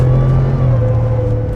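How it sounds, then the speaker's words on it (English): A 2021 Ford F150 on its stock exhaust accelerates, heard from inside the cabin as a loud, steady low engine drone with a thin rising whine above it. "Stock exhaust though, with a little bit of that whine in the cabin"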